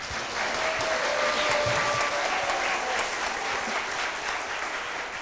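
Steady applause from a large crowd at a Korean-Japanese school sister-relationship anniversary ceremony, sustained and fairly even throughout, with a faint tonal hum running beneath the clapping.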